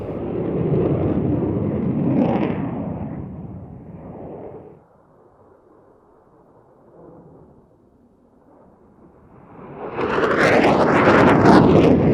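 Belgian F-16 fighter jet performing an airshow display, a loud roaring pass that fades to distant rumble, then surges back with a harsh, broadband jet roar as it sweeps close again.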